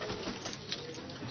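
Kamgar pigeons in a breeder's loft in Lahore coo softly through a brief, steady murmur against a constant noisy background.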